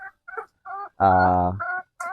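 Chickens on a farm cluck in short, close bursts, with one longer, louder squawk in the middle.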